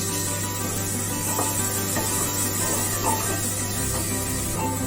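Onions frying in a pan for homemade pav bhaji, a constant close sizzle with soft scraping stirs every second or so, nobody talking.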